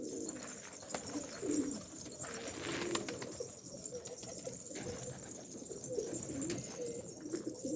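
Pigeons coo softly inside a coop, with repeated low cooing calls and some faint chirps over a quiet background hiss.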